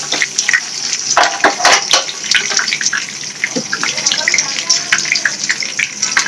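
Cumin seeds crackling in hot oil in a pan over a lowered gas flame while cooking a dry eggplant dish, a steady close sizzle with scattered pops and faint clatter throughout.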